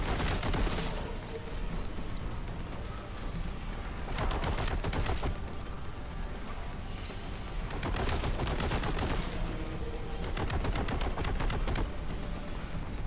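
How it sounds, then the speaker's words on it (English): Sustained gunfire in Warhammer 40,000: Boltgun, a dense, loud barrage of rapid shots and bursts that keeps going almost without pause, with rumbling impacts beneath. "Okay, that's a lot of bullets flying toward me."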